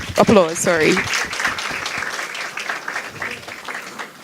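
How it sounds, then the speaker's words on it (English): Applause from a crowd at a girls' program festival rises beneath a voice at the start, then carries on as a steady patter of clapping that gradually thins. "Give yourself a round of applause."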